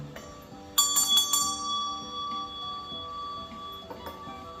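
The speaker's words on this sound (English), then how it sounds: "So I'm going to go ahead and ring my bell." A small bell is struck several times in quick succession for energy clearing, bright ringing tones layered and decaying slowly, then a lighter strike near the end, alone and close.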